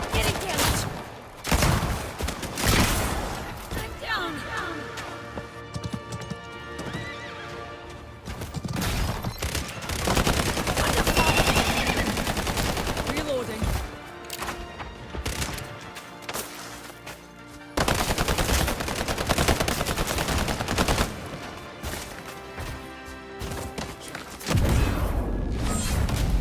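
Gunfire in the video game Highguard: sustained bursts of rapid automatic shots and heavy booms, loud and dense throughout, with brief gaps between volleys.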